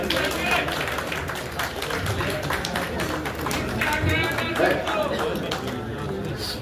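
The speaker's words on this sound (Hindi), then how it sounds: "तालियों की गड़गड़ाहट से स्वागत व सम्मान करेंगे" An audience claps to welcome officials at a BJP district meeting, producing a steady patter of applause mixed with crowd chatter and voices throughout.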